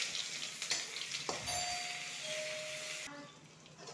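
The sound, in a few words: chopped onions frying in a pan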